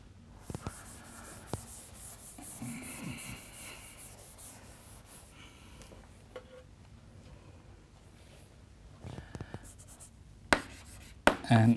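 Chalk or marker scratching across a board during a physics lecture, a series of faint scraping strokes with small taps in a quiet room, with no talk.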